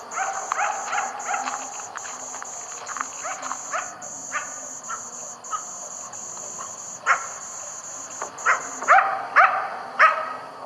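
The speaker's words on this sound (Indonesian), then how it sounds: "dia mendengar teriakan anjing hutan di kejauhan" A coyote yelping and barking far off, a run of high yips and short barks in uneven bursts, growing a little louder toward the end, over a steady high insect-like whine.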